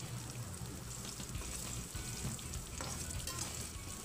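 Garlic and onion sauté in hot oil, a steady, fairly quiet crackling sizzle that holds evenly throughout with no talking.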